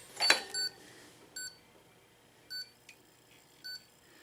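An electronic power supply tester plugged into a computer power supply from a drift arcade machine gives short, even beeps, about five in four seconds, with a louder click at the start, alone and fairly quiet.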